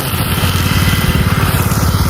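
A grass-cutting machine works the grounds of a university, its small engine running close and loud with a rapid, steady pulsing chug throughout.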